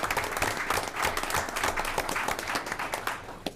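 A crowd at a board meeting applauds with dense, steady clapping that holds for a few seconds, moderately distant in a large room.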